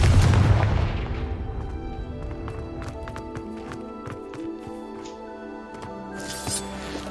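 A fire spell explodes in a fantasy video game, opening with a loud, bright blast that decays into a ringing, shimmering tail with scattered sparkling ticks and a soft whoosh near the end.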